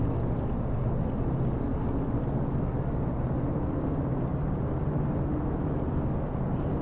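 Twin aircraft engines run up together for a power test, a steady, loud, low droning roar that holds evenly from start to finish with no voices.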